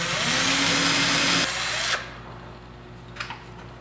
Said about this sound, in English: we're going to drill through into the body panel of the truck